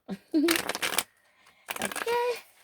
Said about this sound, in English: let's get these shuffled up really quick